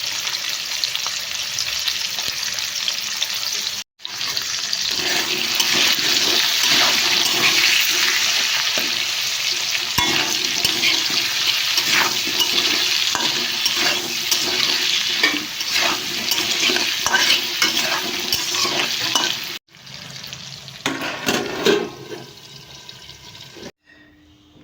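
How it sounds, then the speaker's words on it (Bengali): Potato pieces with salt and turmeric sizzle loudly in a hot pan while being stirred, a continuous close hiss cut by two brief pauses, then fainter scraping toward the end, with no voices. "তো আলুগুলো দিয়ে দিচ্ছি, নুন, হলুদ এসব দিয়ে ভালো করে নাড়িয়ে চাড়িয়ে ঢেকে দেবো।"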